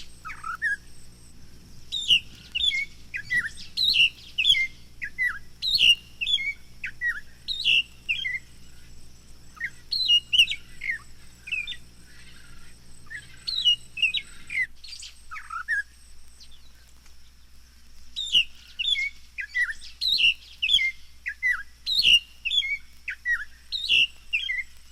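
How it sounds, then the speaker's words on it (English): An African songbird delivers a brief chortle, then a loud, clear chanted song with deliberate accented phrases, repeated in bursts with short pauses, close and alone against a quiet background. "a preliminary chortle followed by a loud, clear, chanted song of marked and deliberate accentuation"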